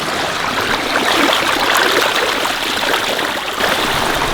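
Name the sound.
washing fish in stream water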